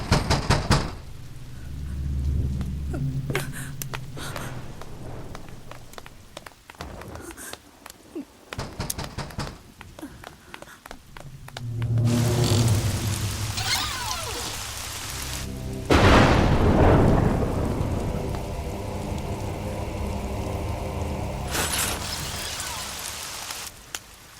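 Heavy rain pours steadily on a stormy night, a broad loud wash that surges and fades, with sharp thumps and knocks breaking through at intervals and a deep rumble in places.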